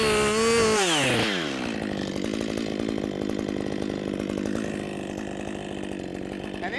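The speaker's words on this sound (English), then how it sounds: "Pushing chain, so I like to anchor my body on the saw so I save energy." A chainsaw revs up and bites into a tree while felling, bucking under load as the top of the bar pushes the chain back, then settling into a steady, loud cutting drone.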